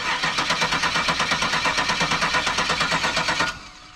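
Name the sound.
engine cranking on an old car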